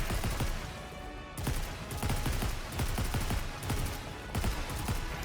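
Sustained machine gun fire from the NIKKE: Goddess of Victory raid battle, a dense, continuous stream of rapid shots with steady loudness across the whole stretch, briefly broken by short pauses.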